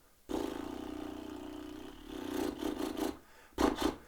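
A breathy, unvoiced lip trill flutters for over a second, then several shorter fluttering bursts follow, close and fairly quiet.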